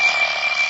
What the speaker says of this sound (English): Darned alarm clock.